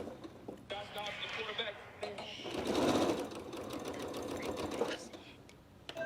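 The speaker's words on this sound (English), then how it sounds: "Now I'm going to go ahead and get the second one sewed on." Sewing machine stitching a fabric elephant ear down near the edge, a steady continuous whir running through the clip with brief pauses and some faint background talk.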